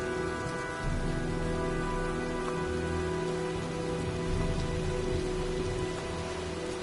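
Steady rain from a storm in a video game, a dense, continuous hiss of drops on surfaces with faint low rumbles beneath, even and unbroken throughout.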